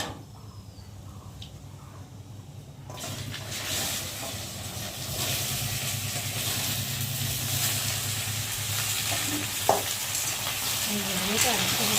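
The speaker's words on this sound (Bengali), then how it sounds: "আর এখন আমি সবজিগুলো ঢেলে দেবো।" Vegetables tipped into hot oil with black cumin in a home kitchen pan, a sudden loud hiss that settles into a steady, dense sizzle with occasional stirring scrapes.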